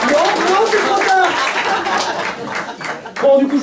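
Scattered clapping and laughter from a small audience at a stand-up comedy set, mixed with voices, with a louder burst of clapping toward the end.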